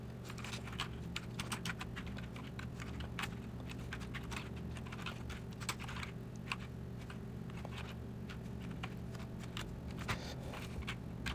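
JavaScript code is typed on a computer keyboard in a quiet indoor room: rapid, uneven bursts of faint key clicks continue throughout over a low steady hum, with no one speaking.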